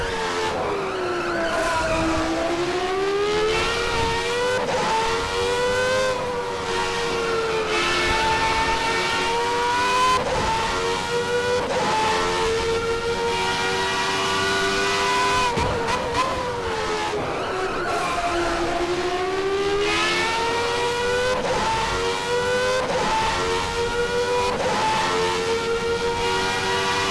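A race car driving a fast lap at Aida Circuit, in a 1994 Senna tribute test run; the engine note rises and falls steadily through gears and corners, loud and continuous, with tire squeal through the turns.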